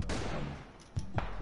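Gunfire in the battle-royale shooter PUBG, with a burst of shots at the start and two sharp, loud blasts later over a rumbling game background.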